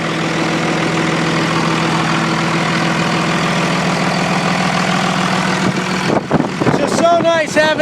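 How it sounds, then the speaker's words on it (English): A 1999 Dodge truck's Cummins diesel engine idles steadily with a low, even rumble that holds for most of the span before brief voices and rustling interrupt near the end. "when I hear a Cummins diesel engine"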